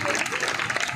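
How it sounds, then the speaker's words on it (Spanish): Festival crowd at Inti Raymi in Cúcuta applauding, a dense continuous wash of clapping with no distinct individual claps, heard briefly under a noisy outdoor atmosphere. "Fuerte el aplauso, fuerte, fuerte, fuerte"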